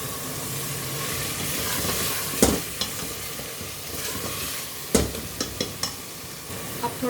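Masala with kasuri methi sizzles in a pan for mutton kaleji, a steady frying hiss broken by several sharp scraping stirs of a spoon against the pan, close and without talk.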